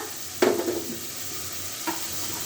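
Turmeric, red chili, cumin and coriander powders lightly fry in a pan with a steady soft sizzle, broken by one clear clink of a stirring utensil and a second fainter tap later, with no talk.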